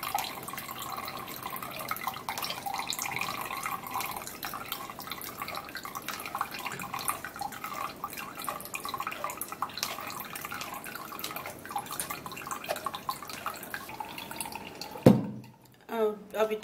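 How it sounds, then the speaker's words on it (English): Liquid trickling and dripping through a strainer into a cup, heard as a close, steady watery patter for most of the stretch before a sudden knock and a short quiet gap near the end. "I'll have to be turning this into the strainer while it goes down to the cup"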